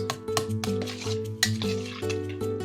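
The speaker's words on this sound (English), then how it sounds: "So now we take our spoon and we're going to mix very well." Spoon stirring a cheese sauce with butter and cream in a pot, producing soft repeated scrapes and light clinks against the pan in a steady rhythm, quiet and close, with no talking.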